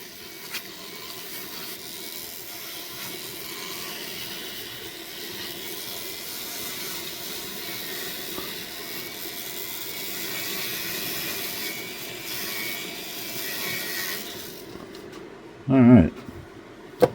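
Rotary machine polishing Deer Creek fire agate at about 4,000 RPM under light pressure, a steady continuous whirring hiss that runs evenly for most of the clip, then stops before a brief louder knock near the end.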